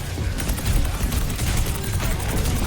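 Gunfire in the game Overwatch, a dense continuous rattle of shots and impacts layered with busy game effects, loud and sustained throughout with no talking.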